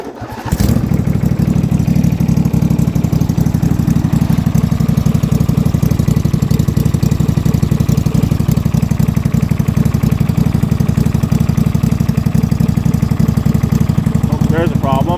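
Yard Pro YT-16 lawn tractor engine running on full choke after a cold start at -2 °C, a loud, steady, close-up chugging drone that holds throughout, with a brief mechanical rattle near the end.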